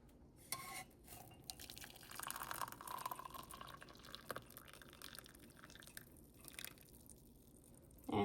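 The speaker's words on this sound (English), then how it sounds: "this is the time to strain it in a cup" Lavender tea poured through a strainer into a cup, a faint trickle and drip of liquid with a few soft clinks of cup and strainer, quiet and close, no voices.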